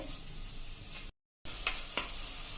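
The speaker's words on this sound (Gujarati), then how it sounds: "ડુંગળી ટ્રાન્સપરન્ટ થાય ત્યાં સુધી આપણે આને સોતે કરી લેશું, એટલે કે પકવી લેશું" Onions sautéing in a pan for Surti cheese paneer ghotalo give a steady broad sizzle, broken by a brief silent gap, then two sharp stirring scrapes over the frying hiss.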